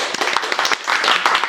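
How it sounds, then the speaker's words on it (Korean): A short round of clapping from several people in a business lecture on bulk-listing consignment sales, a quick burst of overlapping hand claps that is loud and close, lasting only a moment. "일단 박수 한번 칠게요."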